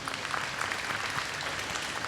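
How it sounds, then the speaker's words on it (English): A short, even burst of applause rises from the audience at a live glass-sculpting demonstration by a guest artist, a dense wash of clapping heard from a little distance. "Let's give them another round of applause."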